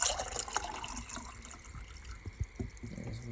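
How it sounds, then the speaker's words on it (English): Ice-cold water splashes and trickles into cups with a bubbling, gurgling sound, followed by scattered drips, heard up close with no talking. "we'll pour it in the cups here"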